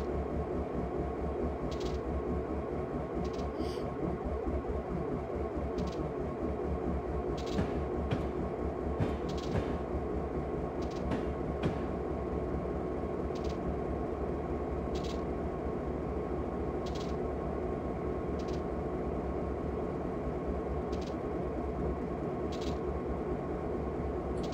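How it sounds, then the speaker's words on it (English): An NS GP38 diesel locomotive hauling a freight train in Train Simulator rumbles steadily as it brakes toward a stop, with a low, continuous engine drone and repeated faint clicks and hisses over it. "I'm about to stop the train."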